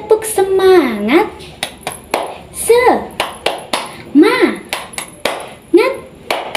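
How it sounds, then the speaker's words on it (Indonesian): Children in a primary school classroom perform a rhythmic 'tepuk semangat' clapping chant, with sharp, close hand claps in patterned bursts between sung and chanted voices. "melakukan tepuk semangat bersama-sama"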